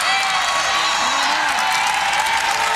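Crowd noise at a Virginia Tech women's basketball game, a steady wash of cheering and roaring from a large arena audience that stays loud for the whole moment.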